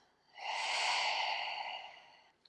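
A single long, deep exhale during yoga breathing, a close, breathy rush of air that swells quickly and slowly fades over about two seconds.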